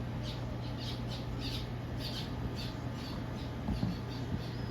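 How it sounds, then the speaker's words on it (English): Birds squawk repeatedly in a steady run of calls over constant low background hum, in a relaxed home setting while curried bhaigan is being made; no one speaks. "Hear those birds?"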